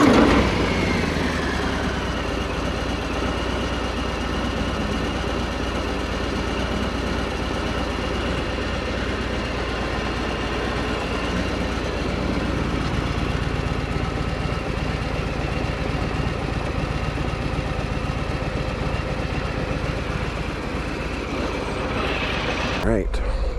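2022 Harley-Davidson Fat Bob 114 with stock exhaust, a steady low rumbling idle that runs close and continuously for over twenty seconds, with a brief rise near the end.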